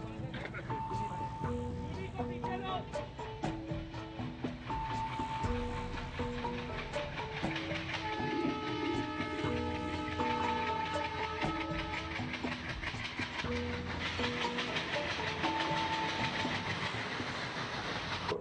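A period train runs along a single track during a film shoot, a continuous rumbling roll with rhythmic clatter, heard faintly beneath someone talking and background music.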